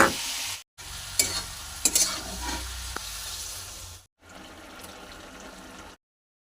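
Bitter gourd and fried salted fish are stirred in a hot pan, a continuous close sizzle with a few sharp scraping knocks, broken by brief silences and fading to a quieter frying hiss.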